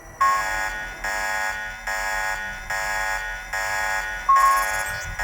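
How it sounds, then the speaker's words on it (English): An alarm goes off in the video game Deus Ex, a loud electronic buzzer pulsing in a steady on-off rhythm of roughly one-second blasts that repeat without any voices. "Whether this triggers the alarm."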